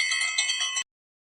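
A hand bell rung indoors in a house to summon maids, a bright, rapid, continuous jangle close by that lasts under a second and then cuts off abruptly into silence.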